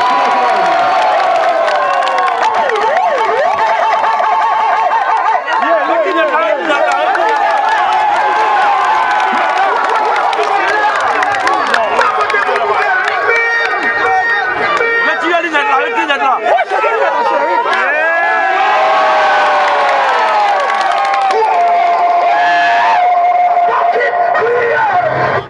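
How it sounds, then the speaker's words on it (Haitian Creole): A crowd at a gathering in Cornillon Grand Bois, Haiti, applauds and cheers for a senator, a loud, dense wash of clapping, shouts and excited chatter that runs steadily throughout. "beaucoup d'applaudissements pour le sénateur."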